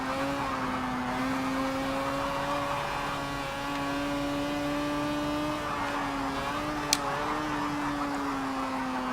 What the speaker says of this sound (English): Bit of engine braking.